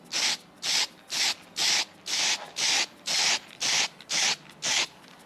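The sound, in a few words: spray painting with aerosol paint can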